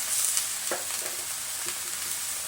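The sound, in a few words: stir-frying adobong sitaw with black pepper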